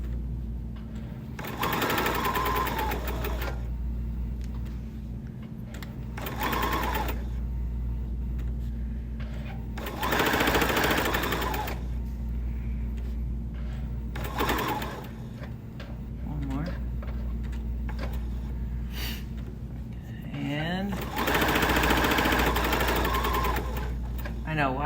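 A sewing machine runs a quarter-inch seam around a small fabric key fob pouch, loud and close in several long stitching bursts separated by short pauses.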